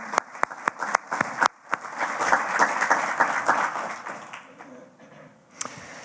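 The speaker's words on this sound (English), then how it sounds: "so let's applause for Lynn and her family as well" Applause from a lecture audience at an awards event opens with a few sharp individual claps, swells into a steady wash of clapping and fades out, with one last clap after.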